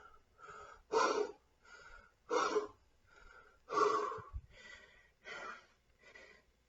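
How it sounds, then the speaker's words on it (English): Deep, rhythmic breaths taken during a workout, about five loud exhalations alternating with softer inhales, close and clear with no talking. "And breathe."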